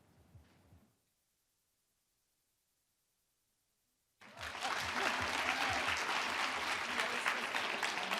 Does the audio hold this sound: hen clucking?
no